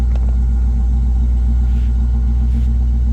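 A hot rod engine idles close by with a deep, steady, lumpy rumble and a pulsing low throb, loud and continuous throughout with no talk.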